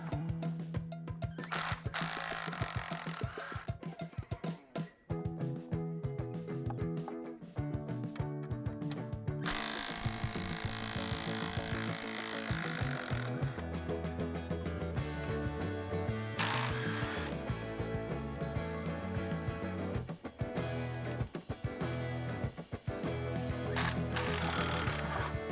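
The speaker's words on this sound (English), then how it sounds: "Now for the rest of the manifold bolts." Turbo exhaust manifold bolts on a car are worked with a ratchet wrench, giving rapid clicking pawl bursts and metallic clanks in irregular spells, close and busy throughout.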